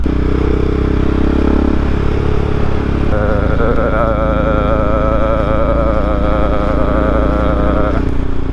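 A KTM single-cylinder motorcycle engine drones loud and close while the bike is ridden, with a steady chugging tone that climbs in pitch as it accelerates under wind noise.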